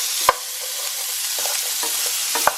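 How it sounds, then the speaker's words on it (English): Carrots and onions softening in pan juices, a light sizzle broken by a few sharp spoon or spatula scrapes and knocks against the pan, close and alone. "I'm going to stir those around and cook until they're softened"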